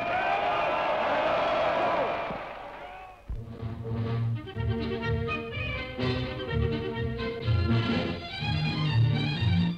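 Crowd cheering at the Munich Fasching Parade in Bavaria, a loud roar of voices for the first few seconds, then giving way to brass band music.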